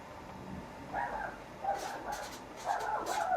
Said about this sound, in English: my dog's getting a bit excited like that.